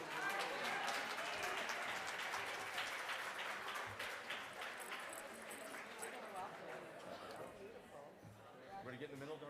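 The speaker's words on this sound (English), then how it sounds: "Let's give a round of applause." Sustained applause from an audience at an award presentation, dense and steady across the whole stretch, loud at first and easing slightly, with crowd chatter mixed underneath.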